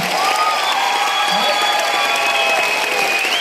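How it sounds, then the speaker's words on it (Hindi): Applause fills the hall as an audience at a motivational speech event claps steadily and loudly, with a few cheers mixed into the continuous crowd noise. "ऐसे मेरे पिता मिस्टर प्रवीण जे चंदन सर के लिए जोरदार तालियां।"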